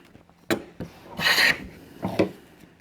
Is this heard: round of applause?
no